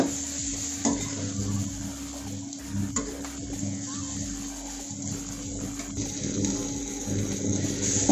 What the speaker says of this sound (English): Onion is well fried now.